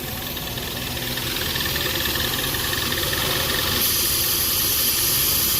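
A 2012 Ford Explorer with the 2.0 EcoBoost engine idles with a steady, continuous drone and a faint mechanical knock. The vacuum hiss from the intake is also there. It stays even and close throughout, with no talking.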